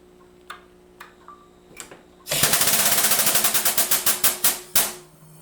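A homemade rosin press pump or jack starts with a few sparse ticks, then runs with loud, rapid, rattling mechanical clatter. Sharp repeated bursts come close together and end in one final hit.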